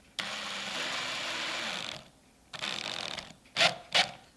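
A cordless drill with its clutch set around 5 drives 1 1/4 inch screws into a wooden board, a loud whirring run of about two seconds, then a shorter run, then two quick clutch-clicking bursts, with no talk.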